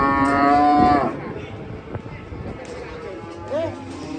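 A cow being unloaded from a truck lets out a loud, drawn-out moo lasting about a second, then a shorter quieter moo later amid background bustle and voices.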